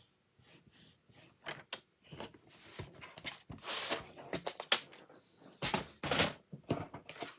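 Paper being scored along cut lines for a fun fold card: close scraping and creaking strokes in irregular bursts, separated by short quiet gaps.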